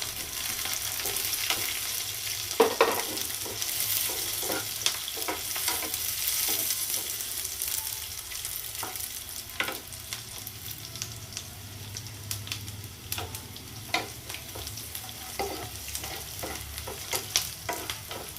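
Onion roasts in a pan as the base for tomato bath: steady sizzling and frying throughout, with scrapes and taps of a spoon stirring at irregular moments.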